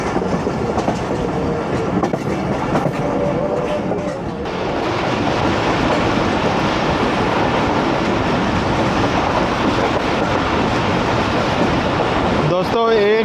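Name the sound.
Awam Express passenger train running on rails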